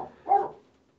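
A dog in a home lets out a single short bark, fairly close and clear, against an otherwise quiet room.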